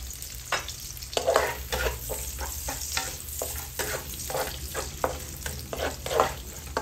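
Vegetable oil sizzles and crackles in a pan for Filipino-style fried rice, with a steady frying hiss and a few brief scraping stirs, close and continuous, with no talking.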